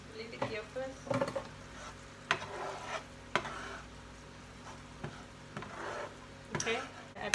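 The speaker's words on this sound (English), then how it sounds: "Now I'm going to put more coconut in here." Coconut being added and stirred into a Thai massaman curry in a pan, with repeated close scrapes and clinks of a utensil over a soft sizzle at an uneven rhythm, and faint talk underneath.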